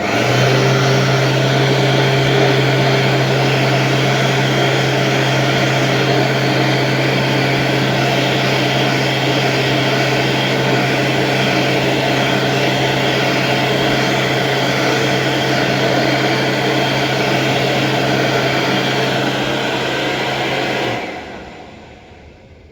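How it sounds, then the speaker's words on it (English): A Supreme BA101 hand dryer running in a restaurant men's room, a loud steady blowing roar with a low motor hum that holds unbroken for about twenty seconds before cutting off and winding down. "no hand dryer in the disabled unit, but there was one in the men's room, which is a Supreme BA101"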